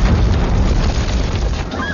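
A thrown bomb explodes in an action film, giving a loud, sustained low roar of blast noise that fills the whole moment without a clear break.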